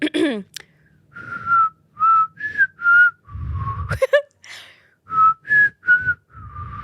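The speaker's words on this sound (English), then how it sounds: "I can't really whistle. Let me try." A person whistles a short, wavering tune in several separate bursts, with brief low rustling and a quick noise between phrases, fairly close.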